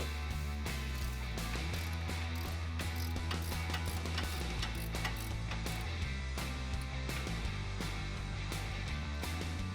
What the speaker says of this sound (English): so grab a wrench and we'll get that loosened up.